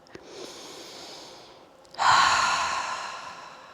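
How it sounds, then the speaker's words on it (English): A deep cleansing breath during a yoga class: a soft drawn inhale, then a strong, breathy exhale that swells and slowly fades. It is heard close up with no talking. "Cleansing breath."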